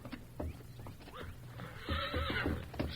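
A stallion kept in a lean-to gives a loud whinny, with hooves clip-clopping nearby and no talking.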